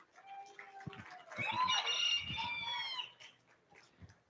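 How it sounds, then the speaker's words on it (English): A large fowl buff cochin chicken at a junior livestock poultry show gives a loud, drawn-out crowing call in the middle, with scattered clucks, thumps and faint background voices around it. "He is a buff cochin of the large fowl."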